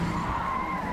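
Formula 1 race car spinning out with tires skidding and squealing, a sustained loud screech with engine noise underneath, continuous for about a second with no talk.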